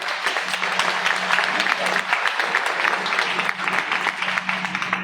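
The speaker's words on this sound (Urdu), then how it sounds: "اب حق ادا کیجیے ایک دفعہ بھرپور تالیوں کے" Sustained, dense applause from a large audience at a political conference hall, steady clapping throughout at fairly loud level with crowd murmur and a low hum underneath.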